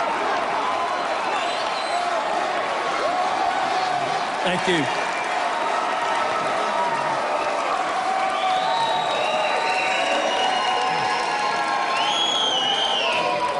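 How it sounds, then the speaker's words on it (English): A large, enthusiastic Minnesota crowd welcoming a politician keeps up steady applause and cheering throughout, with scattered whoops and shouts, while a voice briefly speaks over the noise. "He's got a very enthusiastic crowd lined up in Minnesota."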